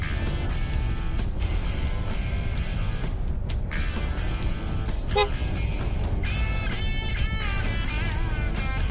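Motor tricycles and traffic on Gabaldon Road, heard as a dense, continuous road roar with repeated horn toots breaking through, sustained and fairly loud throughout.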